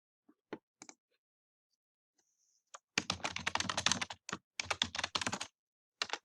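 Keys clatter on a computer keyboard as text is typed into a Word document, with a few isolated clicks early on, then steady, fast bursts of close, crisp tapping broken by short pauses.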